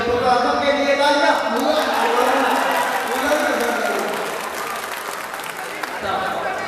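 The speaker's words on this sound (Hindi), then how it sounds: "आजम के लिए तालियां" Audience applause at a mushaira poetry gathering at an agricultural university, a dense wash of clapping that starts loud and gradually thins, with voices faintly mixed in.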